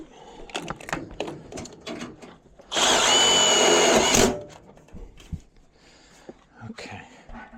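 A power drill runs in one steady, loud burst of about a second and a half while a water heater is installed, with quieter clicks and handling noises before and after.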